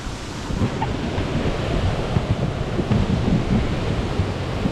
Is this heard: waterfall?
yes